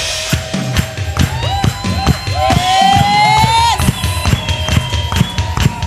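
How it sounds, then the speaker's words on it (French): Members of a church congregation cheer in acclamation with loud whoops and rising shouts over rhythmic clapping and thumping. The sound is lively and close and builds to a peak midway through. "on va monter en acclamation"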